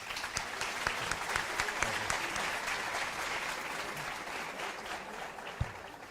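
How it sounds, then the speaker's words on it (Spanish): Sustained audience applause at an agroecology lecture, dense steady clapping from a crowd in a hall, loud and continuous with no talk over it. "Le brindamos otro fuerte aplauso."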